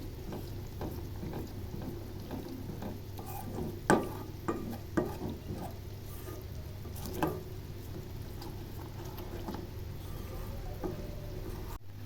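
Homemade butter from home milk simmers into ghee in a pan, giving a steady low bubbling sizzle with a few sharper pops and stirring clicks scattered through, fairly quiet and without talk.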